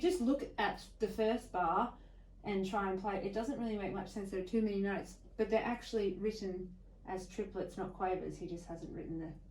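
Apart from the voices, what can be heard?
No everyday noises stand out.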